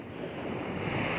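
Sea waves surge against the shore during a coastal tidal flood (rob) on Java's north coast, a dense, close roar of rushing water and wind buffeting that swells steadily across the brief moment.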